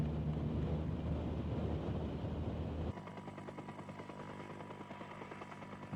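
A helicopter filming a descent during the 1995 Clásica Ciclista San Sebastián cycling race gives a steady rotor and engine roar, loud at first and then lower and thinner after a sudden cut, with wind buffeting the microphone throughout.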